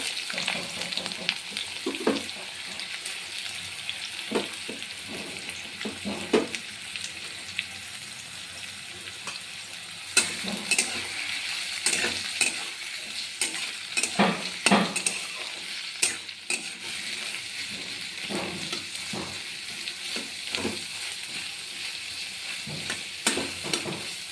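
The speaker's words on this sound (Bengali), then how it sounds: "রসুন ভাজা হয়েছে, এরপর আমি এর মধ্যে দিব পেঁয়াজ কুচি" Chopped onion fries with garlic in a pan, a constant sizzle under repeated scraping stir strokes, close and fairly loud.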